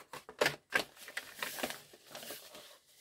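Paper being cut down to size with scissors for a vintage Scottish-themed mini folio: a quiet, close series of irregular snips and crisp rustles, several sharp cuts early then softer scraping strokes.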